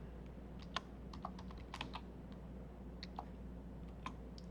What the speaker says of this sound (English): this is a imaginary title I am typing.